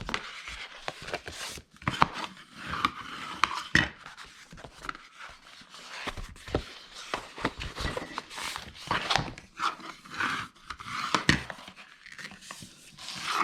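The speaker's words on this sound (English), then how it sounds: "So now we are going to fold and burnish all of these scores" Paper being folded and burnished along scored lines for a handmade journal box backed with poster board, heard as close, dry crinkles, rubs and sharp creasing taps that repeat irregularly with no talking.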